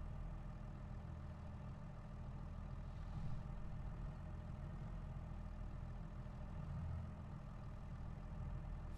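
Tractor engine running steadily in Farming Simulator 22, a low, constant drone with slight swells around three and seven seconds, continuous and without speech.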